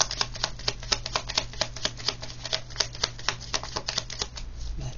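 A deck of cards being shuffled for another draw, up close: a rapid stream of crisp riffling flicks that runs steadily for several seconds, with no voices.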